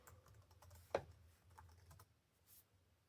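Quiet, sparse keystrokes on the keyboard of a 2006 MacBook Pro, a few soft clicks with one sharper tap near the start, heard up close in a hushed room.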